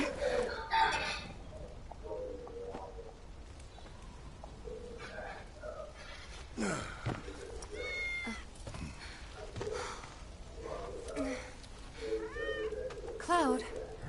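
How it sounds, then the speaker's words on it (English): A cat meows several times in the video game Final Fantasy VII Remake, short rising and falling mews scattered among soft background sounds and speaking voices. "Good kitty."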